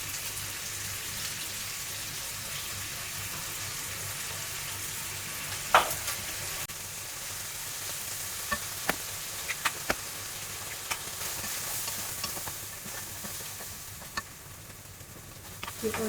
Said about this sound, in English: Keep on stirring until the egg is cooked even.